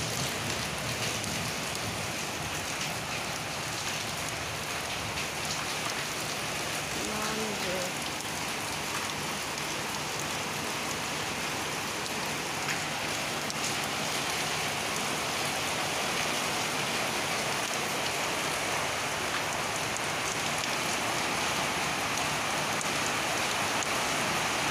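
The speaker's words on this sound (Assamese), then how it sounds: "এয়া চাওক কি জোৰে বৰষুণ দি আছে আমাৰ ফালে" Heavy rain pours without pause for the whole stretch, a dense, even hiss of drops hitting surfaces nearby with no breaks.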